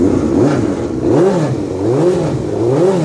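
A 2005 Suzuki GSX-R750 motorcycle engine running close by on a cold morning in Texas, loud and rumbling, its pitch repeatedly rising and falling in smooth, wavering swells.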